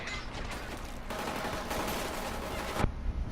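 Pistol fire in the video game Killzone: Shadow Fall, a dense burst of loud overlapping shots and blasts filling the whole stretch, ending with a sharp crack, with no voices.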